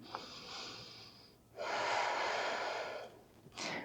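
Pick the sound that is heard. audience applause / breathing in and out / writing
breathing in and out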